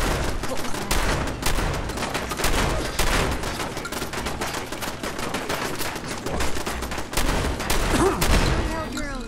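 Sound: Mark III machine gun turret firing, Fallout 4 video game

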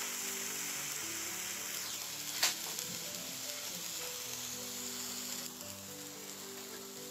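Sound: vegetable omelette frying in a pan on a gas stove

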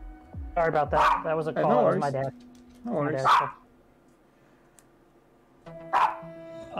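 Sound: small Chihuahua-Terrier mix dog barking

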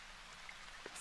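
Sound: rain falling in video game Senran Kagura

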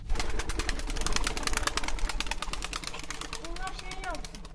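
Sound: pigeons cooing in a loft

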